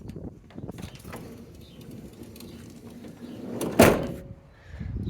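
After a rail repair, a Renault Trafic van's sliding door rolls along its track and shuts with one sharp, solid slam, followed by quieter handling noises nearby.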